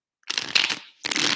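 Tarot cards being shuffled in two quick bursts, close and crisp riffling of the deck with a short pause between them.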